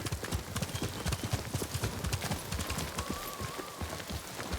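A horse gallops in the video game Ghost of Tsushima, with rapid rhythmic hoofbeats pounding close and loud throughout, and a faint tonal cue under them near the end.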